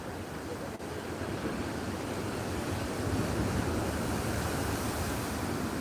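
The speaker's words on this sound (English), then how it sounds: "that sea is really churning at the moment" Churning sea waves at Bouznika at sunset: a loud, unbroken roar of surf mixed with wind buffeting the microphone, swelling slightly partway through.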